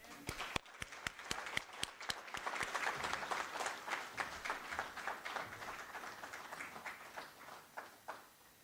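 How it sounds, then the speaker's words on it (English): Audience applause greets a professor walking onto the stage at a university celebration event, starting as sparse individual claps and swelling into steady, moderately distant clapping that tapers off near the end. "I ask you to please bring Professor Anil Suklal to the stage with a warm round of applause"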